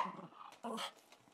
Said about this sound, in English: And there's my puppies playing.